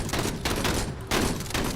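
Shotgun fire in the video game Menace: a few heavy, booming blasts in quick succession, loud and close, with a dense crackling wash between them.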